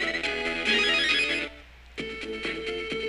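A giant speaker in Mega Man Battle Network 4 rings out with a loud electronic ringtone-like jingle, a brief pause, then a second rhythmic burst of repeated tones.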